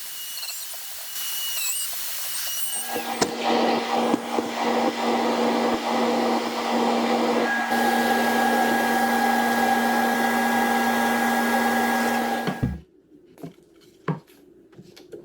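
Router fitted with a 1/2 inch spiral upcut bit cutting mortises for a poplar tenon, a loud sustained whine at steady pitch holding for about ten seconds before cutting off abruptly, followed by a few faint knocks.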